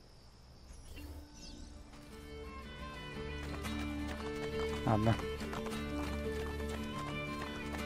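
A horse gallops in Assassin's Creed Brotherhood, its steady hoofbeats running beneath a voice speaking briefly over the game's ambient background.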